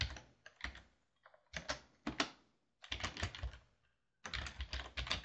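Keys clatter on a computer keyboard in close, quiet bursts of rapid typing with short pauses between runs, while code is entered for an XNA program.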